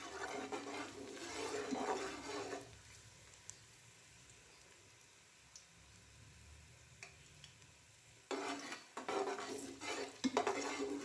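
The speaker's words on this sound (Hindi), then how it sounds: "इसको हल्का सा यहाँ मिक्स करूँगी" Garlic cloves stirred in hot oil in a pan, bursts of scraping and sizzling stir noise at the start and again near the end, with a quieter simmering stretch between and no talking.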